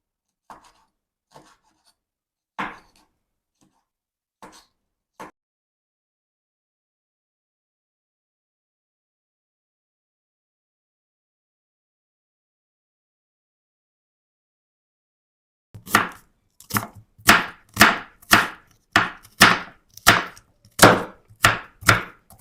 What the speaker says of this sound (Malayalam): കുറച്ച് പച്ചമുളക്, ചെറിയ ഉള്ളി, വെളുത്തുള്ളി, ഇഞ്ചി, മല്ലിയില ഇത്ര നമുക്കൊന്ന് അരിഞ്ഞെടുക്കാം